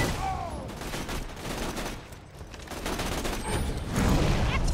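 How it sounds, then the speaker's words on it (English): Rapid, sustained gunfire in the video game Borderlands 2, a dense barrage of shots filling the whole stretch without pause. "Oh, hey, I'm being shot."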